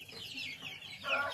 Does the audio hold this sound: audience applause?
no